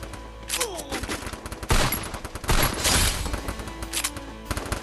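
Rapid bursts of M500 gunfire in the shooting game Free Fire, loud and close, cracking out in dense volleys with short gaps between them, no talking over it.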